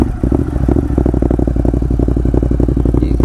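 A motorcycle engine running without exhaust baffles idles loudly and close with a rapid, rough, choppy exhaust pulse, steady throughout.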